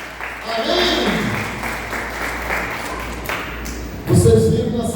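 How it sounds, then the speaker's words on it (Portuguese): Congregation clapping in a church, a sustained wash of hand claps that swells louder near the end, with speech mixed in. "Dê uma salva de palmas ao Senhor"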